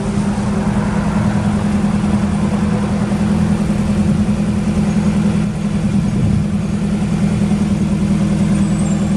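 A Mitsubishi FG20 pneumatic-tire forklift with 4,000 lb capacity runs its engine steadily throughout, a loud, close, even idle hum with slight rough pulsing and no talk over it.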